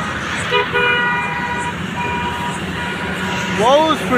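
Vehicles and trucks speed past on an NH bypass highway near Bhubaneswar, a constant traffic rumble broken by several short horn toots, and a loud rising-pitch honk near the end, with a person talking over it.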